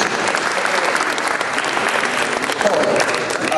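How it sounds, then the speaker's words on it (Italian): Audience applauding at an evening award ceremony, loud continuous crowd clapping filling the room without a break. "Vorrei un applauso per il suo."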